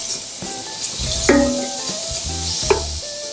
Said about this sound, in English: we're going to give that a quick stir